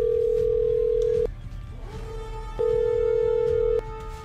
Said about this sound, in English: I gotta call Christina